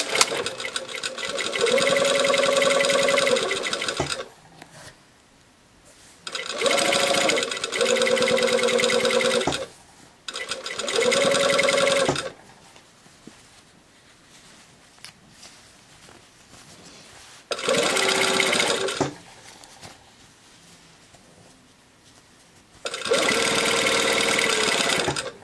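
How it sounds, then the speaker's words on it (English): A sewing machine back tacks a seam on jeans pocket pieces with regular thread, running in about five loud, steady whirring bursts separated by short pauses, with the motor pitch shifting within some runs. "And I am back tacking with this thread."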